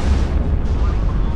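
A nuclear weapon fires from the Velikiy cruiser in the naval combat game Modern Warships: a loud, sustained, rumbling roar that fills the whole moment, with a voice faintly present underneath.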